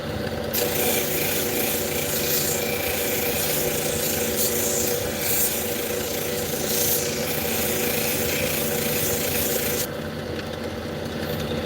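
A 280 grit grinding wheel works a piece of fire obsidian stone, making a loud continuous rasping scrape over a steady motor hum; the grinding stops abruptly near the end, leaving the motor running alone.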